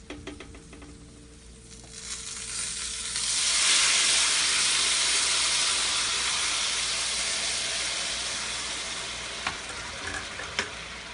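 Hot broth poured into a frying pan of fried noodles for fideuà, bursting into a loud broad sizzle that swells, then slowly settles into steady bubbling hiss with a few small pops.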